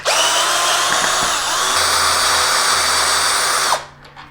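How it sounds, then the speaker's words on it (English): A power drill removing bolts on a Veteran Patton-S scooter whines loudly and steadily for several seconds, close up, with small shifts in pitch, then stops abruptly, leaving a faint quiet tail. "Next we'll be removing the 2 bolts on the top."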